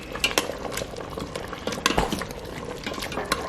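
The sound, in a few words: stirring an oxtail sauce in an Instant Pot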